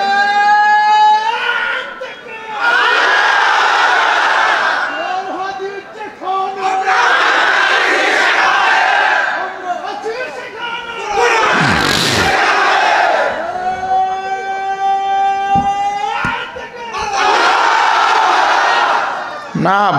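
A large crowd at a Bangladeshi Islamic mahfil chanting Allahu Akbar in repeated loud unison bursts, answering a leader's call with pauses in between.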